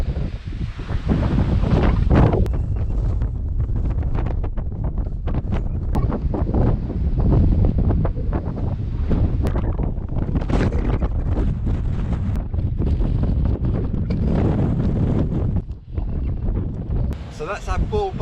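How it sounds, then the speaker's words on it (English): Strong wind buffets a coastal clifftop at Bull Bay on Anglesey, roaring continuously and loudly across the microphone with heavy low rumble, gusts swelling and easing, no voices heard. "It's now getting seriously windy on the top of this cliff."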